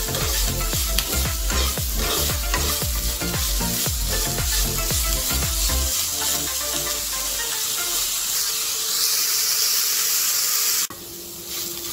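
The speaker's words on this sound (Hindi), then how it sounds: "अच्छे से मिक्स करना है और ऐसे ही फ्राई करना है।" Ridge gourd peel fries in a pan with salt and turmeric, a steady close sizzle with stirring scrapes, busier early on and then settling into a softer hiss.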